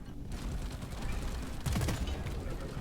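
Rapid bursts of video game gunfire from the Scout class, a dense stuttering volley of shots that swells louder partway through, set against a steady game soundscape with no talking.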